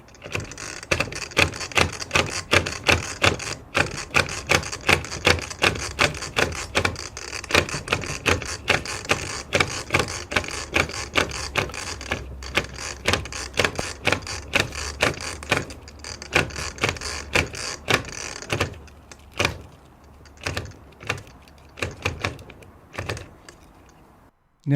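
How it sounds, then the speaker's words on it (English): A string trimmer head, DeWalt Quickload or ECHO Speedfeed, is twisted back and forth to wind new line onto its spool, giving a long run of steady, rapid plastic ratchet clicks, close and alone, that slows near the end. "use a ratcheting motion to load up your new spool"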